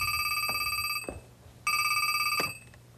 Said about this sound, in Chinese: 珊珊，陈伯伯电话。